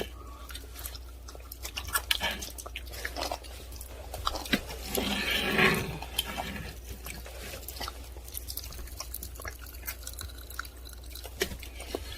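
Close-up mukbang eating, with wet chewing, biting and soft crunches over about twelve seconds and a louder burst midway.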